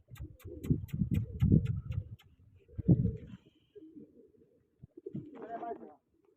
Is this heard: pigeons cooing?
yes